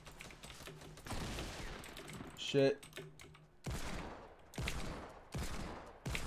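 Hand cannon shots in Fortnite fire in rapid loud bursts alongside other gameplay sounds, with a man swearing briefly in between.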